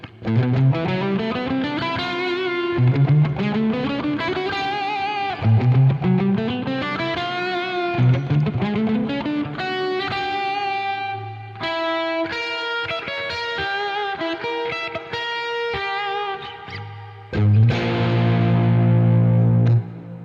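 Distorted electric guitar plays sliding riffs and sustained chords through a reverb plugin, drenched in lush reverb and echo that let notes ring and wash together.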